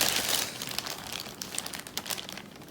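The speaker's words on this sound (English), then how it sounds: "Apologies, you're going to hear rustling." Close, crinkly rustling of bags or packaging while searching for an embroidery thread colour, with irregular bursts of crackle that fade slightly toward the end, no voices over it.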